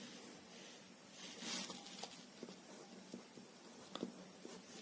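Pencil or pen scratching across paper as a teacher works a fence-length problem, a soft, faint, irregular patter of strokes and taps with no talking.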